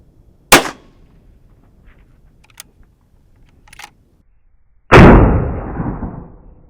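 Two sharp reports from a .243 rifle fired at a rabbit 250 meters away. The first crack is brief and loud, and the second is a heavier blast followed by a long decaying rumble. A few faint clicks fall between them.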